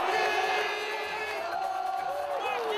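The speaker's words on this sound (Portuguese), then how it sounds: "a torcida foi à loucura quando os times entraram em campo" A football crowd at Arena Amazônia roars and chants as the teams take the field for a friendly match, a dense, continuous wall of massed voices that stays fairly distant and steady throughout.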